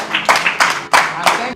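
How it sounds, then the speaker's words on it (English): Guests at a 54th birthday celebration for actor Saidi Balogun clap in a few loud, close bursts, four or five separate rounds of hand claps in quick succession. "Please round of applause."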